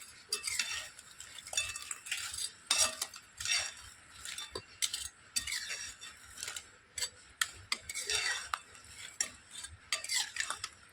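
Fried bread slices are stirred in sugar syrup with a utensil, giving quiet, irregular scraping and clinking against the pot in short bursts, close up with no talk.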